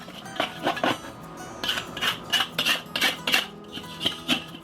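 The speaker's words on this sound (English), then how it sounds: "So let's just scrape all that ash down on the inside, get all that loose ash off as much as I can, get the blade clean." Metal scraping and clinking inside a Weber kettle grill as loose ash is scraped off the gummed-up blades, a close series of irregular scratchy strokes and knocks with short gaps between them.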